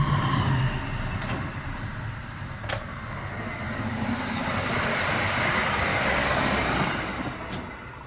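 Kutojaya Selatan economy-class passenger train running on rails, a steady broadband rumble and clatter of wheels with a few sharp clicks from rail joints, continuous and fairly loud throughout with no talk.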